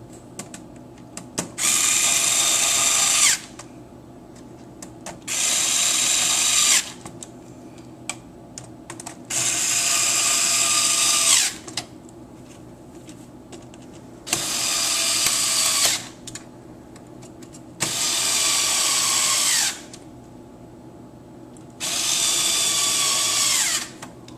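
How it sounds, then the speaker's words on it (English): A power screwdriver drives screws back into a PlayStation 3 console in six separate high whirring bursts, each lasting about two seconds, with faint clicks and handling noises in the quiet gaps between them. "Go ahead and start to screw all those in."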